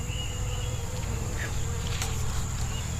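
Bees buzz steadily around an open beehive during a summer hive check, a dense continuous hum with close insects droning past, while people talk quietly in the background.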